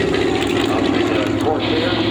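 A WWII Corsair fighter's 2,200-horsepower engine turns a 13-foot propeller, making a loud, steady, droning roar that fills the whole stretch, with voices faintly mixed in.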